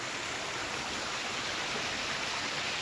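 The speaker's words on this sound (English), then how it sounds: "There's a little waterfall back there." A small waterfall on a creek hike gives a steady, broadband rush of falling water that holds even and continuous throughout, fairly soft and moderately distant, with no voices over it.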